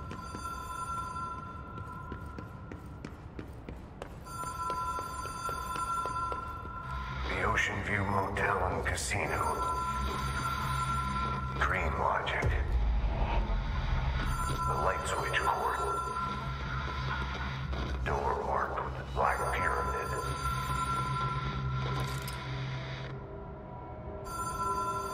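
Telephone ringing in the video game Control, repeated bursts of electronic ring tones with pauses between them, heard under game ambience and someone talking over them.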